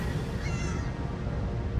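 A cat gives a short meow from the Elder Scrolls Online game, heard over a low rumbling background hum.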